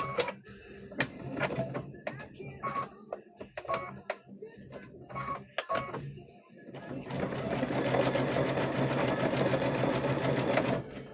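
A home sewing machine stitches a fabric trick-or-treat bag, its needle clattering in short bursts with pauses and back-stitching, then running steadily and louder toward the end; close and busy.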